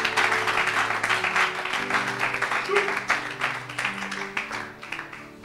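Applause and clapping from a church congregation, steady and dense throughout, mixed with voices and sustained musical tones underneath.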